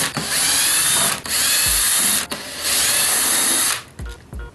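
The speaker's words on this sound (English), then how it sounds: "Honestly, I like to use the drill for this." A power drill loosens screws on an office chair being reupholstered, three loud, close bursts of whirring motor separated by brief pauses, with a short final spin and a clunk.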